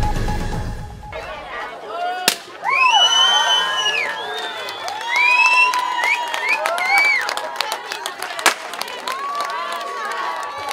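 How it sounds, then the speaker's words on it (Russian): A crowd cheers and whoops to welcome a triumphant football team, with sharp party-popper bangs near the start and again later, and shouting voices rising and falling throughout. "Хлопушки, поздравления и радостное скандирование"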